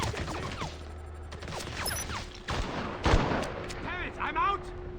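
Repeated gunfire in a James Bond 007 Blood Stone firefight, bursts of shots and heavy blasts cracking close over a steady hum, with shouted voices mixed in.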